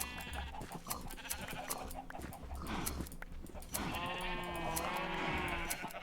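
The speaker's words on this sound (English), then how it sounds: "Many more sheep." Sheep in a blocky survival sandbox game bleat repeatedly in overlapping calls, mid-distance and moderately loud, against a steady game ambience.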